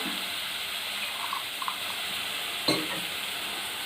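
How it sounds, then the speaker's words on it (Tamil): Water hits a hot pan while cooking a raw banana dish and sets off a loud, steady sizzle, with a light clink of utensils partway through. "கொஞ்சமாக தண்ணி ஊற்றி அலசி ஊற்றிக்கலாம்."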